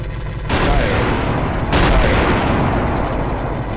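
Mounted cannons in Garry's Mod with the ACF weapons addon fire two loud, booming shots about a second apart, each with a long rumbling tail, over a steady game car engine drone.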